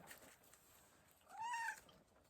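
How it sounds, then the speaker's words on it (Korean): A cat gives a single short, rising meow outdoors, faint and fairly close, against quiet background hiss with no talking. "고양이 왔다, 고양이."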